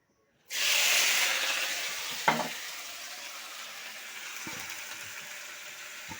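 Pointed gourd hits a hot wok with a sudden loud sizzle that slowly settles into a steady hiss, broken by a sharp scrape of stirring and a couple of softer clinks.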